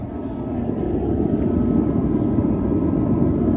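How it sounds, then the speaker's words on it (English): A clean-burning fume-free burner heater roars steadily while aimed at a tractor's engine bay in a shop, a continuous loud broadband whoosh that swells slightly in the first second, then holds steady. "extreme, clean, advanced technology burner. I can run it in the shop without any fumes"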